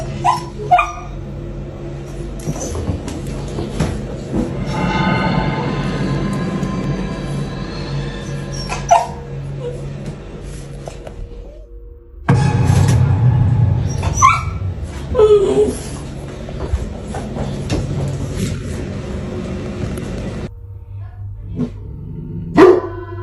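Several family dogs bark, yip and whimper indoors in bursts across the clip, loud and close, with a sharp surge of barking midway and quieter gaps between.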